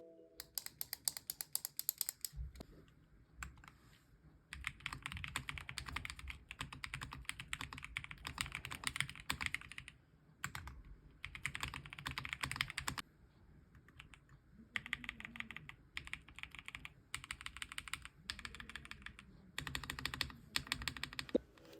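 Keystrokes clatter on a Montech MKey Pro 75% mechanical keyboard, close and crisp bursts of rapid poppy typing separated by brief pauses.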